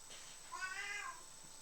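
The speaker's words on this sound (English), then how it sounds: "Can y'all hear him? Oh, he's he's a pretty unusual cat." A single drawn-out meow from an unusual-sounding pet cat indoors, fairly faint against a quiet room and lasting about half a second.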